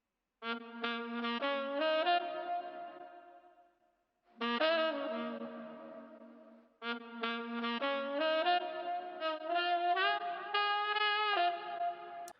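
Vintage-style R&B sample treated with EQ, retro color, flux, tremolo and stereo widening, heard as a moderately quiet sustained melodic phrase with wobbling, echoing tones, split by two short silences.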